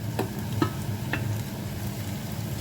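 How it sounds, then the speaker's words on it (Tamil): Snake gourd and onions sauté in a pan, Jaffna style, with a low steady frying hiss and periodic stirring scrapes at a moderate level. "ஒரு 5 நிமிஷம் வதங்க விடுவோம்."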